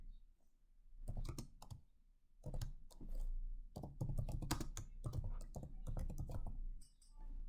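Typing on a computer keyboard comes through as bursts of quick, close key clicks separated by short pauses, with no voice.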